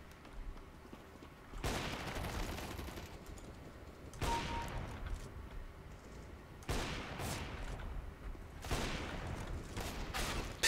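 Automatic gunfire in Counter-Strike: Global Offensive, loud bursts of rapid shots arriving in several separate volleys with short quieter pauses between them and no talking.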